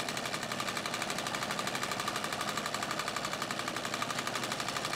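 A White Rotary treadle sewing machine runs steadily throughout, giving a fast, even mechanical chatter of needle strokes at moderate level with no voices.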